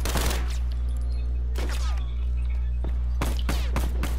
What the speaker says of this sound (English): I'm gonna go in with my automatic pistol.